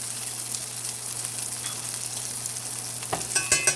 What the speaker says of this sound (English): Just baste it with that butter and let it sit there.